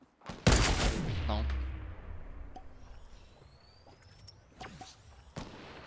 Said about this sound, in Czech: Ale někdo střílí po nich, kámo.